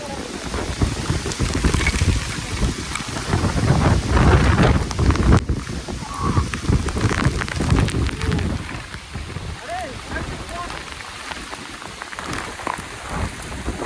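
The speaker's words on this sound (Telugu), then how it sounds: "వర్షం అయితే బాగా హెవీగా ఉంది ఇక్కడ" Heavy rain pours on a road in a high hill area, a dense steady hiss of drops with gusts of wind buffeting the microphone, loud and continuous throughout.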